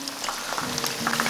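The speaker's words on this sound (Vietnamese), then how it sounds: "Dầu nóng khoảng 180 độ thì mình cho cánh gà vào chiên." Chicken wings frying in oil heated to about 180 degrees, a soft continuous sizzle and bubbling with small crackling pops, fairly quiet and steady.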